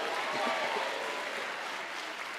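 Church congregation applauding together, a dense, steady wash of clapping that stays loud and even throughout with no voices over it.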